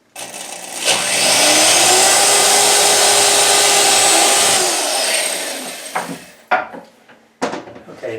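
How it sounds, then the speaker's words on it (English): A power drill bores a hole into a wooden beam while kitchen cabinets are removed, giving a steady whining run of about five seconds that spins down into a few loose clatters. "now that we drilled the hole here in the beam"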